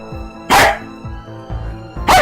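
A dog barks twice, loud and close, with sharp bursts separated by a low, hum-laden background and faint softer sounds between them.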